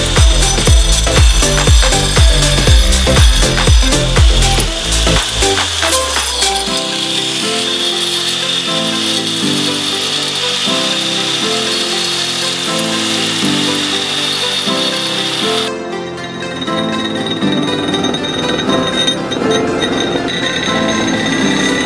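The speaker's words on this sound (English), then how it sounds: "Now, let's cut the stone together." A saw cuts a gemstone, opening with a loud rapid series of grinding strokes, then a steady whining hum with rubbing rattles that drops to a quieter tone near the end; no talk.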